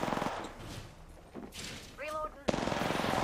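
Rapid bursts of video game gunfire crackle in a steady automatic rhythm at the start and again after a short lull, loud and close, with voices talking in between.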